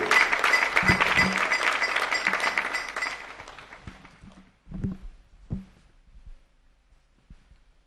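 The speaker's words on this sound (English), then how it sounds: "Let's give him a round of applause again." An audience at a fisheries dialogue with political parties applauds for about three seconds, the clapping fading out, followed by a few scattered thumps and taps in a quiet hall.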